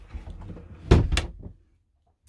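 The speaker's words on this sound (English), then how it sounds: "Close the door." Shuffling and low bumps, then a solid double knock of a light toilet door in a Mobilvetta Design K Yacht Tekno Line 64 motorhome swinging shut and latching, followed by near silence.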